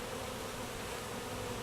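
Honey bees swarming at a hive in late season, a dense continuous buzzing hum close to the microphone, loud and unbroken.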